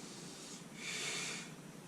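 A single soft breath exhaled during a Pilates exercise, a faint airy rush rising in the middle and fading.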